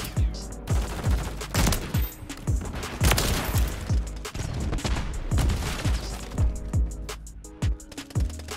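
Video game gunfire cracks out in a rapid string of sharp, loud shots, clustered in quick bursts with brief gaps, each blast trailing a short boom.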